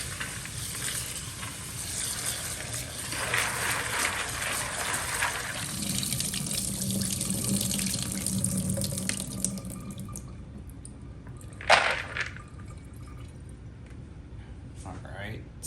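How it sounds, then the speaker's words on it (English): Raw peanuts are washed in water, a continuous splashing, rushing wash like a running tap and sloshing in a sink, fairly close, easing off toward the end with a sharp clatter, while a person talks over it. "Go ahead and wash them real quick."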